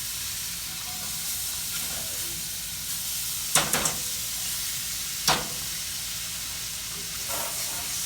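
Flounder frying in butter in a pan, a soft continuous sizzle and hiss with a few sharp clinks of a utensil against the pan in the middle.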